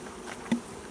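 Bees buzzing during a hive rescue from six metres up, a faint, steady insect hum with a brief closer buzz passing by partway through.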